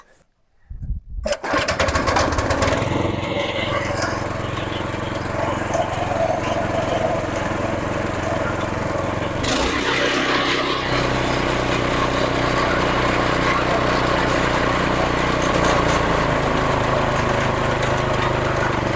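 A small engine is pulled and started after being wrapped with bandage on a harvest-time farm. A brief silence gives way to catching and a rising engine roar, then a loud, steady running drone continues with a shift in tone partway through.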